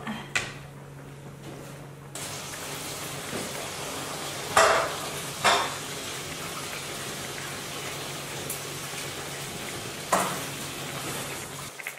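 Pig tails seasoned with salt and MSG cook in a large iron wok, giving a steady low sizzle with occasional stirring scrapes and clanks, heard close with no talk.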